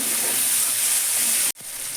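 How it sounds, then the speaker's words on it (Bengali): Green peas fry with onion, tomato and capsicum in a pan, giving a steady close sizzle and hiss that cuts out abruptly near the end, then resumes more softly. "মটরশুঁটি পেঁয়াজ টমেটো ক্যাপসিকাম সবই ভাজা হয়ে যাচ্ছে"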